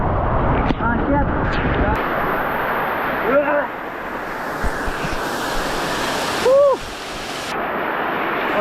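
Waterfall roaring as a continuous broadband wash with wind buffeting the microphone, while a voice briefly exclaims over it a couple of times.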